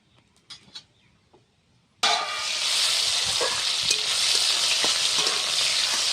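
After a few quiet taps, panch phoron and chopped tomato are dropped into hot oil with a sudden loud burst of sizzling that stays intense and crackling to the end.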